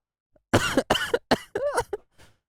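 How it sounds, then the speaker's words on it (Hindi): A man gives a close, harsh coughing fit of about five quick coughs in a row, trailing off into a faint final cough, with no speech. "ये खांसी भी पता नहीं मेरी जान लेगी क्या।"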